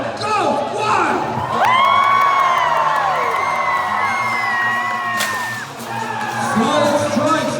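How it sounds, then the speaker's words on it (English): Spectators at a medieval fair jousting match whoop and cheer loudly, with sustained rising yells and shouts from a large outdoor crowd, a voice talking at the start and end. "the crowd goes wild!"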